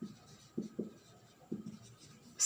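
Chalk or marker strokes on a classroom board during a chemistry lesson, several short scratchy bursts in uneven rhythm, fairly quiet and close, with no talking.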